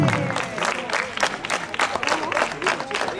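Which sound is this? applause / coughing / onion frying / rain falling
applause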